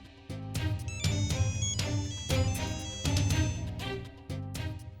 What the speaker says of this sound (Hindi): इतनी रात को फोन कौन कर रहा है?